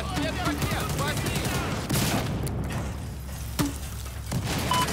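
Hostile machine gun fire in the video game Battlefield 4, sustained bursts of gunfire and booms in a dense battle mix, with game radio voices heard over the shooting.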